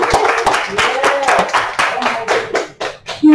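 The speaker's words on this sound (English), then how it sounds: "Round of applause for food." A short burst of hand clapping from a small group, with cheerful voices mixed in, close and fairly loud.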